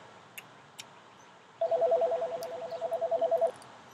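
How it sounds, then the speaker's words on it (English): A telephone rings indoors, a steady repeated electronic warble of evenly spaced pulses lasting about two seconds, fairly close and clear over quiet room tone with a couple of faint clicks before it. "here's the phone's ringing now."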